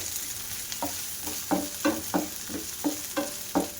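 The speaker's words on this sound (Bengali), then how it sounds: "এবার আদা রসুনটা একটু হালকা ভাজা করে নেব তেলের মধ্যে দিয়ে" Ginger garlic paste frying in oil: a continuous bright sizzle with regular rhythmic stirring strokes, about one every third of a second, close and clear with no talking.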